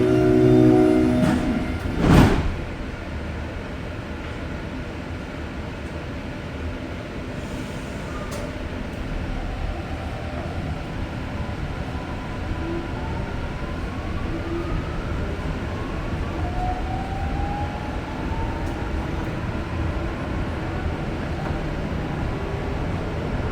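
Steady rumble and rattle from inside a moving Deux-Montagnes commuter test train in Montreal, with a brief horn-like tone near the start and a continuous hum throughout.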